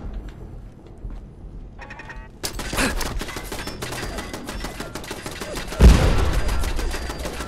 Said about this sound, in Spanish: Hay una maldita ametralladora.